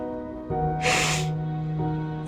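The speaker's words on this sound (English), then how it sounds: "Yeah, he's sniffing." A man gives one short, sharp sniff, a brief breathy nasal rush that rises over a steady low hum in the background.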